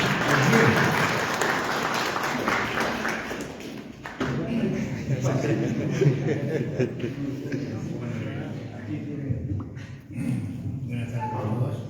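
Applause welcoming a school director at a book presentation, a full room clapping steadily and loudly throughout with a murmur of voices underneath.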